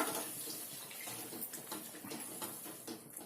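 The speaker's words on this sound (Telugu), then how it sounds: "ఇప్పుడు దీంట్లో కొన్ని నీళ్ళు వేసుకోండి" Water pours into a pan of egg curry with a steady, broadband splashing rush that stays fairly even and close throughout, with no talking.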